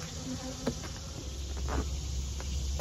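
Honey bees drone in a continuous close buzz at the top of a hive, with individual bees flying past the ear now and then over the steady hum.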